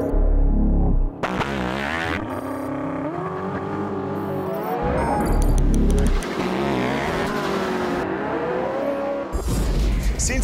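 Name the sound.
Porsche 918 Spyder plug-in hybrid supercar engine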